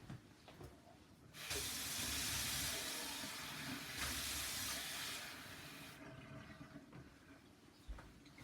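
Water gushes loudly from a tap in two long bursts with a short break, a bright rushing hiss against a quiet room.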